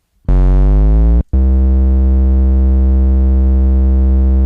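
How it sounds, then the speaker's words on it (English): A bass note sampled from no-input mixer feedback, a loud, steady, pure-toned hum that slides in pitch at first, cuts out briefly, then holds a flat sustained drone with rich harmonics. "That's a nice bass note."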